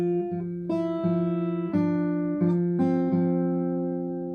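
An acoustic guitar picks a riff from a song, a run of clear plucked notes and held tones ringing out one after another, close and alone with no voice.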